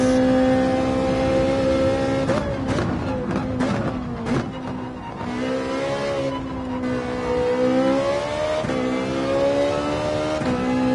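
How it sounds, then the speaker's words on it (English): A car in Gran Turismo 7 revs and accelerates, its engine tone climbing and dropping through gear changes. It is loud, close and continuous, with a few sharp transients along the way. "This thing takes off. The acceleration's fantastic."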